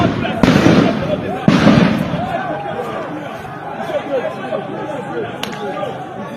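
Police firing shots at protesters during a street confrontation: two loud, sharp bangs in quick succession, followed by a dense crowd murmur and shouting voices.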